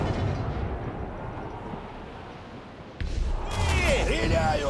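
Ship cannons firing in the pirate naval game Assassin's Creed IV Black Flag, a dull rumbling roar that opens into a heavier boom near the end, with excited voices shouting over the blasts.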